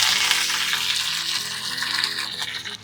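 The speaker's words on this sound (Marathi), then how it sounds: "त्याच्यामध्ये एक चिरलेली हिरवी मिरची आणि कढीपत्ता घालूया" Chopped green chili and curry leaves dropped into hot oil with fenugreek seeds for a Maharashtrian tempering, a loud, dense crackling sizzle close up that stays steady, then eases slightly at the end.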